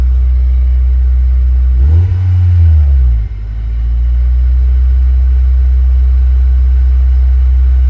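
Repaired budget-build car engine idling near 2,000 rpm, a loud close steady low rumble with a brief rise and dip in pitch early on before settling back to an even idle.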